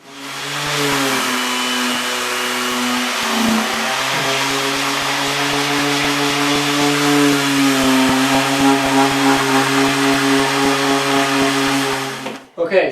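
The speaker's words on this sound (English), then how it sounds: "Now we just gotta cut the rubber." Steady, loud motor whine from a power tool cutting through a rubber mat, running continuously with a slight dip in pitch partway, then winding down abruptly at the end.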